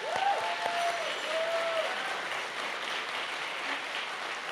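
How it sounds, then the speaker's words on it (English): Gala audience at an anniversary celebration gives a sustained round of applause, steady crowd clapping with a few brief whistles near the start. "Can we give a round of applause for them?"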